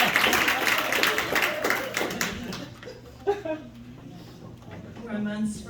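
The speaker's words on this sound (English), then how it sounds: "Let's give you a round of applause." An audience claps together in a meeting room, a dense burst of applause for a couple of seconds that thins out, with voices and light laughter mixed in.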